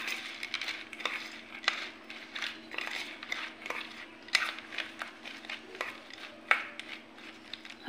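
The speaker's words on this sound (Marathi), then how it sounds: "अशा प्रकारे हलवून घ्यायचं आणि तो ठेवायचा" A spoon stirs boondi raita in a bowl, giving a run of soft, irregular scraping and clinking strokes, close and fairly quiet, with no speech.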